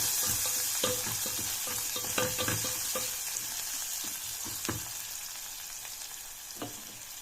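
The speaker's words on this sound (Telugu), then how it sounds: "ఉల్లిపాయ ఎర్రగా ఫ్రై కావాలంటే కొద్దిగా పసుపు, ఉప్పు వేసి వేయించుకుంటే ఎర్రగడ్డలు బాగా ఎర్రగా ఫ్రై అవుతాయి త్వరగా" Sliced onions fry with turmeric and salt for a chicken biryani, a steady close sizzle with scattered pops and crackles and occasional stirring scrapes throughout.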